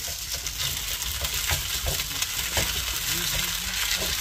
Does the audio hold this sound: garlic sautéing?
yes